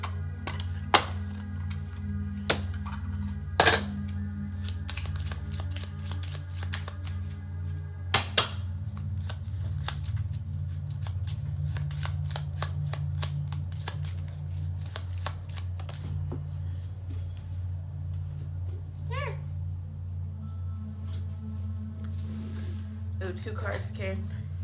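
Tarot cards are shuffled for a card reading: a long run of close, rapid riffling and flicking with a few sharper snaps, under a low steady background hum, with a voice talking at times.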